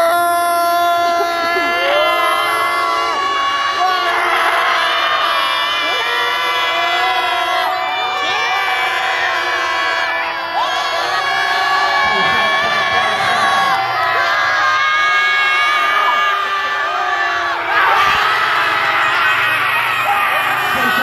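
A large crowd at a basketball game cheers and shouts continuously, with high-pitched yells and whoops rising in bursts over a dense, loud roar.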